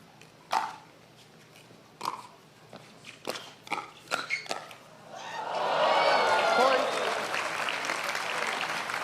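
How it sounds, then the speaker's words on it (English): A pickleball championship crowd breaking into cheering and applause after a few paddle pops, a broad sustained roar of clapping and voices that fills the venue. "The screams from the crowd off the tape there again."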